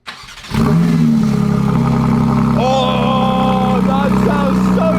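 A Porsche GT3 engine running in limp mode, starting up and then holding a loud, steady droning idle with a rough mechanical tone that rises and wavers slightly partway through, close up.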